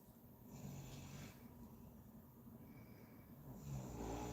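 A dog snoring softly after a day of running in the park, faint, slow rhythmic rasping breaths heard close and alone.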